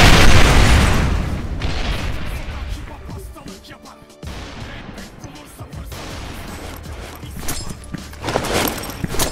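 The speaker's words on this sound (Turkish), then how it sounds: "Bir tane daha bomba." A bomb going off in a shooter video game, with a heavy booming blast at the start that fades into rumbling, then more scattered bursts and pops, with voices talking over it.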